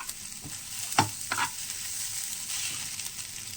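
Chire pulao made with flattened rice cooks in a pan with a steady close sizzle, broken by a few soft knocks of a stirring spoon, and no voices.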